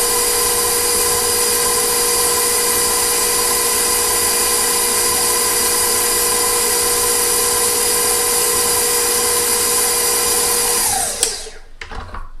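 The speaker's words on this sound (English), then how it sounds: "Mixing that really well." A stand mixer whirs steadily and loudly through pound cake batter in a home kitchen, the motor hum holding constant before winding down and stopping near the end.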